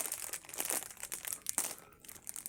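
Crinkly plastic snack bag of ketchup-flavoured chips being torn and pulled open, close and crisp with rustling bursts over about two seconds.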